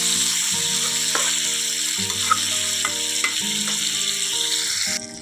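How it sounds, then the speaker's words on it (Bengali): Prawns frying in oil in a kadai with onion and potato, a loud, continuous close sizzle with occasional crackles and scraping stir sounds, no talking. "দেখো চিংড়ি মাছ ভাজলাম"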